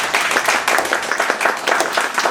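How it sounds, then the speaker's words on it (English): A theater audience claps wildly in dense, continuous applause for a beloved stage star's entrance, loud and close throughout with no talking over it. "The audience applauds wildly."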